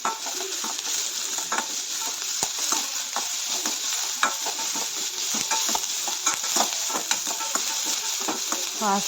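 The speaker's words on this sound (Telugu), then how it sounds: "దీనిలోకి ఒక ఆనియన్ సన్నగా కట్ వేసుకొని ఫ్రై చేసుకోవాలి" Thinly sliced onion fries in a pan with a continuous bright sizzle, and frequent ladle clicks and scrapes from stirring run through it.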